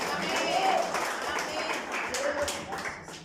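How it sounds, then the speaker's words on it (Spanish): A church congregation applauds softly, the faint patter of clapping spread through the room with a voice rising above it at moments. "dale un fuerte aplauso a Dios ahí en tu lugar"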